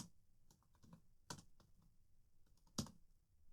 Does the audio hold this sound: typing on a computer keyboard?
yes